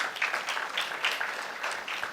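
An audience claps for a student newspaper team at a lecture session, a steady moderate patter of many hands filling the whole stretch without voices.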